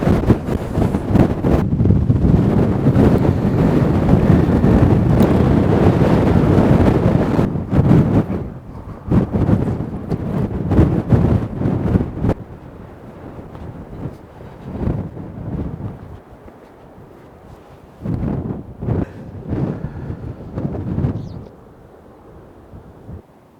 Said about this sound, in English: That is really cold and windy.